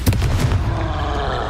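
A Confringo blasting spell explodes in Hogwarts Legacy, a sharp loud burst at the start that rolls into a dense, sustained rumble with no voices over it.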